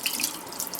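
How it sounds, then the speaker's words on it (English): Water from a bathroom sink tap runs and splashes steadily as warm water is scooped onto a face, a close, continuous wet rushing with no talking. "I'm going to splash water in my face"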